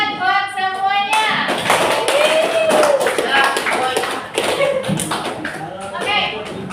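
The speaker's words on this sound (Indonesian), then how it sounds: "coba tepuk tangan buat semuanya" Students in an English lesson clap along in a classroom, a dense run of hand claps and taps continuing under a child's and teacher's overlapping speech.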